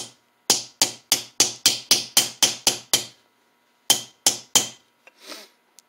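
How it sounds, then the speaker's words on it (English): A small hammer taps crisply about ten times in a steady rhythm while keying an SFIC lock core, pauses, then strikes three more times, close by and fairly loud. "you don't need a big hammer"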